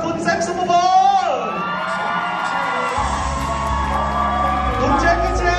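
A crowd at a stage event for a Thai TV series ceremony screams and cheers loudly, whoops rising over an announcer's amplified voice and a low stage rumble that sets in partway through.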